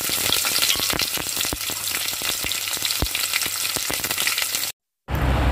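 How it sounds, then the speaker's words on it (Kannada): Curry leaves and onions frying in hot oil with mustard seeds in a pan, a loud continuous sizzle dense with sharp crackles and pops, ending in a brief cut to silence. "ಇವಾಗ ನಾನು ಕರಿಬೇವು ಹಾಕ್ತಾ ಇದ್ದೀನಿ, ಆ ನಂತರ ಈರುಳ್ಳಿ ಹಾಕ್ತಾ ಇದ್ದೀನಿ."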